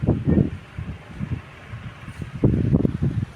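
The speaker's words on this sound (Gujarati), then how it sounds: "અહીંયા મીઠો મીઠો પવન આવે છે" Gusts of breeze buffet the microphone in uneven, rumbling bursts, loudest at the start and near the end, with no voices.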